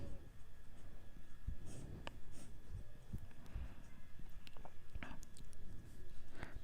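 Pen or pencil writing math on paper, close and quiet, with short scratchy strokes and taps in an uneven rhythm, alone without talk.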